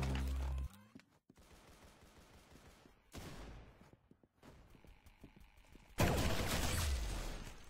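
Gunfire in the Roblox shooter Arsenal comes in sharp bursts of rapid shots, with sudden loud volleys separated by quieter gaps of footsteps and game noise.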